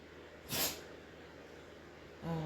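A single sharp sneeze, close and brief, in a quiet outdoor setting in Cornwall, followed by a faint breathy sound.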